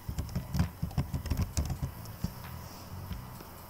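Someone types a word on a computer keyboard, a quick burst of close, soft key clicks that thin out into a few scattered taps, with no talking.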